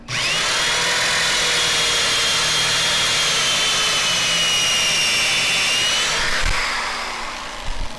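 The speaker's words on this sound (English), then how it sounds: "I'm just going to go ahead and drill into the pocket hole jig right here" A power drill bores into a wooden board through a pocket hole jig while building a cajon drum, with a loud, steady whine held for about six seconds before it winds down, and no talking.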